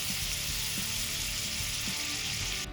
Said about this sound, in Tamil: கொஞ்சமாக ஜீரகம் போட்டு நம்ம தாளிக்கிறோம்.